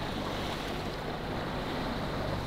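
Water rushing steadily past the bow of a sailboat in the Kiel Fjord, a continuous broadband wash of spray with some wind noise, close and even throughout.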